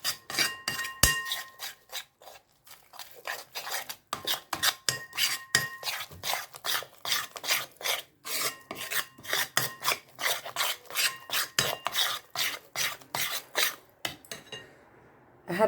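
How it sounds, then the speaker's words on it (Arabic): Pumpkin is stirred in a pot with repeated rasping, scraping strokes. The strokes come in a steady, close rhythm for about fifteen seconds, then stop abruptly. "غنحركو مزيان"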